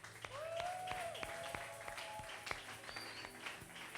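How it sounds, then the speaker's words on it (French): A church congregation claps together in praise during a prayer service, steady dense applause throughout, with a singing or sustained tonal voice faintly above it. "Acclame maintenant pour le Seigneur."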